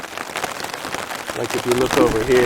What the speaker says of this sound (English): It started raining about the time we went to bed, and it rained all night long.